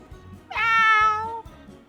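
A voice imitates a cat's meow: one drawn-out, nasal mew held for about a second, loud and close.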